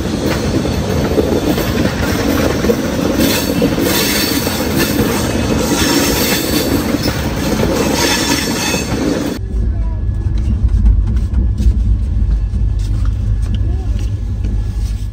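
Hisar special express train running into Kacheguda, heard from on board as a loud continuous rumble of wheels and carriage noise with faint rail clatter, which then drops to a quieter, low steady hum.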